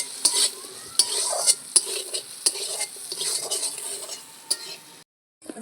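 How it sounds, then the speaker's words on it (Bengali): Green chillies fry in a wok for a pumpkin vegetable dish. Brisk metal spatula strokes clink and scrape against the wok over a bright sizzle, then the sound cuts off abruptly near the end. "কটা কাঁচা লঙ্কা দেব, দিয়ে ভালো করে ভেজে"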